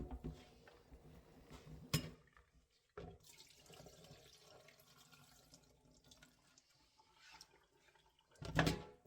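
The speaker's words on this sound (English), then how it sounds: "we're going to go ahead and rinse it with some water and vinegar" Chopped chicken being rinsed with water and vinegar for sancocho, faint running tap water in a sink with occasional clinks of a bowl or utensils, quiet and close.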